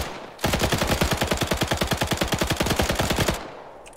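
Sustained machine-gun fire in the video game 82AD Liberation: a rapid, evenly spaced burst of roughly thirty loud, close shots lasting about three seconds, then a quick cutoff, with no voices over it.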